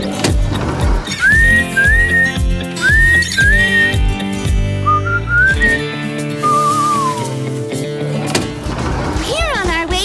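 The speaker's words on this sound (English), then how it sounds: "Want to try whistling again, Baby Pony?" A cartoon baby pony whistles a bright, bouncy tune in short rising phrases over lively background music with rhythmic thumps, ending in a sliding, wobbling whistle effect.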